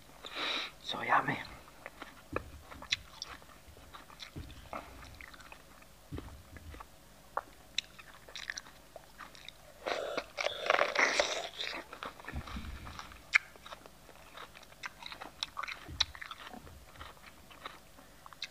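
Close-up crunchy chewing and biting of raw capsicum (bell pepper), with bursts of crisp crunches between quieter mouth sounds and soft whispered talk.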